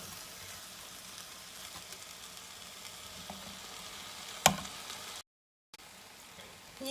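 Chicken fried rice is stirred gently with a spoon, making a faint, steady sizzle. One sharp spoon clink stands out partway through, followed by a brief moment of silence.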